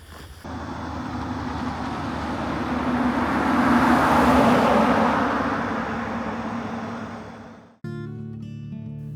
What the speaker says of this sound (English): time to get in the truck and go home.